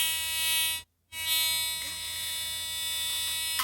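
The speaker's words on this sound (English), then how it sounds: "it's a metal detector. Clues in the name, it's for detecting metal" A handheld metal detector emits a steady electronic tone with a constant harmonic drone, briefly cut to silence near the start before resuming at even volume.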